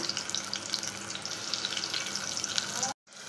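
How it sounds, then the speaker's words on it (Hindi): Finely chopped onion frying in hot oil in a pot, a steady crackling sizzle up close with faint stirring, ending in a brief dropout near the end. "जैसे ही वो गर्म होता है मैं इसमें डाल दूँगी ये बारीक चॉप्ड प्याज"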